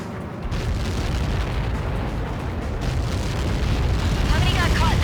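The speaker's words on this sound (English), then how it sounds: "How many got caught in that explosion?" Massive impact explosion from Helios projectiles in the combat flight game Ace Combat 7, a sustained deep rumbling roar that swells and holds loud for several seconds, with faint chatter mixed in.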